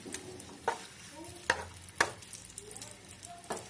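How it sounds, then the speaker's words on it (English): Vegetables and garlic sauté in a pan with a soft, quiet sizzle, while a utensil scrapes and taps the pan a few times. "Saute for few seconds."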